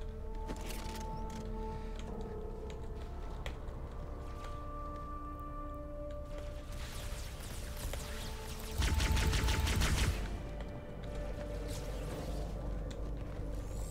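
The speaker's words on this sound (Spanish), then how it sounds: "Es que mira esa cantidad de disparos." Gunfire in Halo 2 on Legendary difficulty sounds under steady game music, with scattered shots building to a loud, dense burst of fire near the end before easing off.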